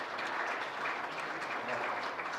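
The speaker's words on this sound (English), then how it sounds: "we can all thank them through another round of applause" Steady, dense applause from a large audience of about 200 people at a Christmas conference, unbroken and fairly loud throughout.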